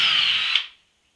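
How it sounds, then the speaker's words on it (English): Power drill whirring at high speed as it bores a countersink pilot hole in wood, one short loud burst that spins down and stops within a second. "This will be for my countersink and my pilot hole, so I don't split nothing."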